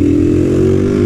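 A Honda Titan 160 motorcycle engine runs while being ridden, a loud, close, steady droning hum that holds an even pitch throughout with no speech.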